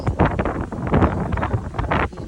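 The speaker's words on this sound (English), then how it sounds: "Sorry, it's so windy." Strong wind gusts batter the microphone in loud, irregular rumbling bursts, close and harsh, with no voices.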